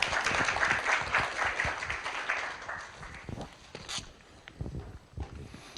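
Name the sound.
applause welcoming the vice president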